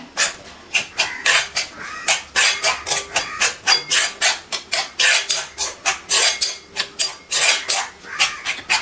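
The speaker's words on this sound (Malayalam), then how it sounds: "ഇതിലെല്ലാം കൂടി ഇട്ട് നന്നായിട്ട് നമുക്ക് ഇനി ഒന്ന് മിക്സ് ചെയ്ത് കൊടുക്കണം" Castor oil and ground leaves being mixed by hand in a bowl, a rapid rhythmic series of loud scraping, rubbing strokes, close up and continuous, with no talking.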